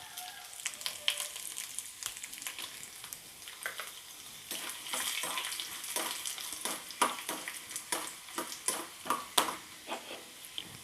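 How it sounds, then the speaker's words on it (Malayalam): Broken dried chillies and chana dal fry in hot oil after mustard seeds, a steady sizzle broken by sharp scraping stirs and crackles, close and moderately loud with no talking. "മുളക് പൊട്ടിച്ചിട്ട് കൊടുക്കുക."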